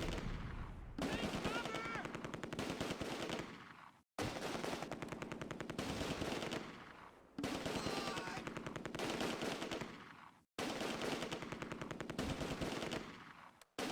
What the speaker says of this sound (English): the weight of enemy fire is starting to tell